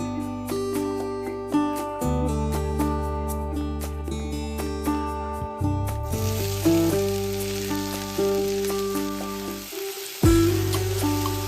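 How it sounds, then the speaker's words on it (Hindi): A tadka of cumin and dried red chilli sizzles in hot oil in a home kitchen as onion is added. A hissing fry rises under prominent background music. "इसमें लगाया मैंने सिंपल सा जीरा और सूखी लाल मिर्च का तड़का, और ऊपर से डाल दिया मैंने प्याज"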